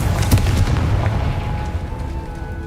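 A Confringo explosion spell goes off in Hogwarts Legacy with a single loud, booming blast. The rumble then decays over a couple of seconds, and no one speaks.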